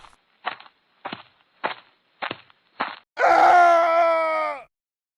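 A man trips on a stone and falls on a wet road, letting out a loud, sustained cry that lasts over a second. It is preceded by five short, evenly spaced thuds or steps.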